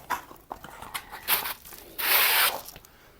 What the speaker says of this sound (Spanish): Simplemente vamos a ir lijando hasta dejarla lo más plana posible